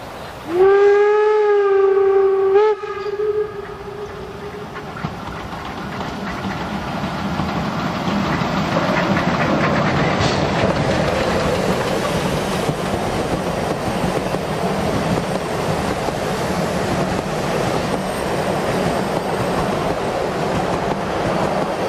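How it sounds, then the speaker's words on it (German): The Fichtelbergbahn narrow-gauge steam train to Oberwiesental sounds a long whistle at the start, then runs past with a steady rumble and clatter of wheels on rails that stays loud and continuous. "Beobachten wir nun den Zug auf der Rückfahrt eine Zeit lang"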